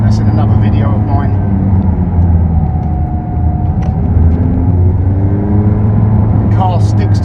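A McLaren sports car drives and accelerates up a hill road, its steady engine drone loud and continuous throughout, with a rising tone partway through and someone talking over it.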